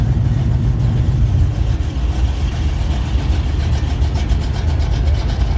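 Race car engines, including a Ferrari and a McLaren, rumble at a night track event as a continuous loud, dense drone of mixed engine noise with no clear pass-by.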